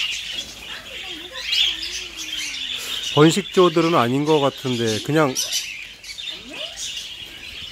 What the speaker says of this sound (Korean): 이쪽이 다 앵무새야.